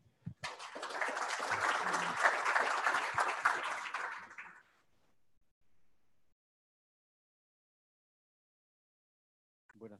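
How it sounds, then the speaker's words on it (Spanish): An audience at an agricultural science presentation on cadmium in cacao breaks into loud, dense applause for about four seconds, then it fades out into near silence. "Le damos un fuerte aplauso, por favor."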